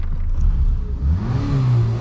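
A Citroën C2 1.1-litre petrol engine revs up close, its pitch climbing and settling into a throaty, rising drone.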